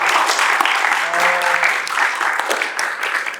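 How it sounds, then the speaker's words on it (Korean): Dense applause from the audience at a talk concert about first-time voting, steady and fairly loud throughout, with a few voices heard briefly under the clapping. "우리 박수 한번 보내주세요"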